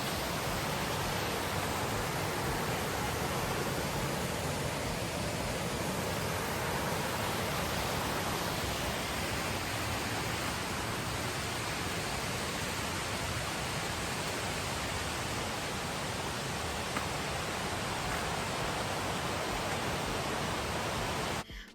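Tiger Falls waterfall in a monsoon forest near Chakrata, a steady, dense roar of falling water that stays loud and unbroken throughout with no voices.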